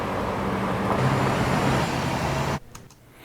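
Layered road traffic ambience with cars, buses and trucks rumbling past as a dense, loud, continuous roar that cuts off abruptly near the end, leaving a quieter tail.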